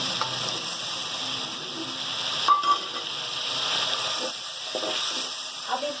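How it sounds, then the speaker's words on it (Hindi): Chopped tomatoes frying with spice masala in a pan for an egg and potato bhujia, a steady close sizzle with occasional stirring clinks. "अब इसको हम भूनेंगे टमाटर और मसाले के साथ।"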